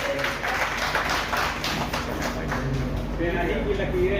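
An audience at a Hindi poetry gathering honouring Maithili Sharan Gupt applauds a poet with a dense wash of clapping, while a voice talks over it.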